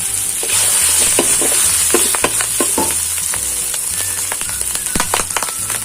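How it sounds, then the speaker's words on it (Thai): Eggs frying in a hot pan for fried rice with grilled fermented pork over high heat, a loud continuous sizzle with steady clanks and scrapes of a spatula, no voices. "ใส่ไข่ลงไปเลย"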